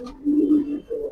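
A red checker racing pigeon gives a single close, low cooing call that swells, dips briefly and then resumes.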